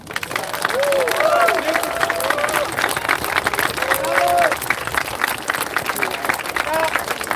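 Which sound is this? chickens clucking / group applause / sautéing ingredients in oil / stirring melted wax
group applause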